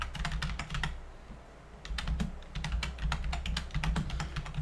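Rapid clattering keystrokes on a computer keyboard while writing a script, arriving in quick bursts with a short pause near the start, close and fairly loud with no talking.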